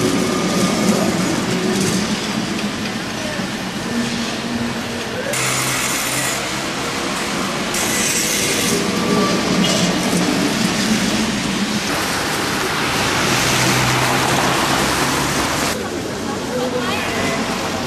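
A Lisbon tram runs along its rails with a continuous, fairly loud rattling rumble that shifts in texture as it moves, under muffled voices nearby.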